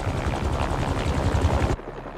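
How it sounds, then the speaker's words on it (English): Helicopter blades whirring as a sound effect in Marvel's Spider-Man 2, a loud rapid rhythmic chop that cuts off abruptly near the end, leaving a faint low hum. "a helicopter's blades."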